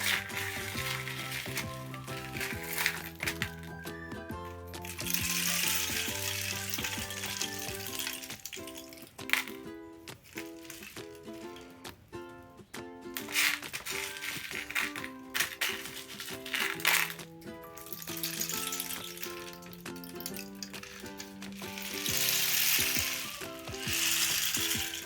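A homemade rain stick is tilted back and forth, its loose filling trickling and rattling in a long, continuous rain-like patter that swells and fades, while music plays quietly underneath.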